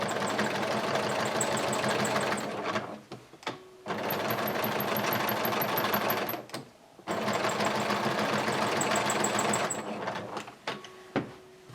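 A sewing machine stitches handles onto the lining of a large craft market tote bag, running in three long steady bursts with short pauses between them and no talk.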